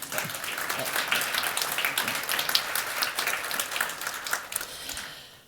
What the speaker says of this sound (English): So I think that's well, worth an applause, actually